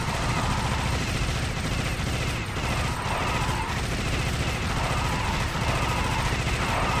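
Continuous, dense automatic gunfire from the top-down video game Alien Shooter roars without a break at steady high volume, thick with rattling shots and game noise.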